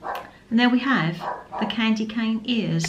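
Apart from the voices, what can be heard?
dog barking in the background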